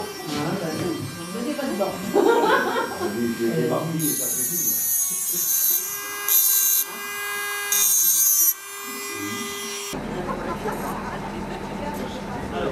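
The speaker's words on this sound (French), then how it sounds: "nous avons une machine comme chez le dentiste. Et là, je vais graver le prénom." A dental-style rotary engraving machine fitted with diamond burrs whines as it engraves a name into crystal, with high buzzing bursts that start and stop between stretches of talk.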